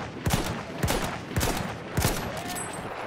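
Gunfire in the Battlefield 1 video game, fired by a sniper rifle at a tank: four sharp, booming shots about half a second apart, each with a short echoing tail, over continuous battlefield background noise.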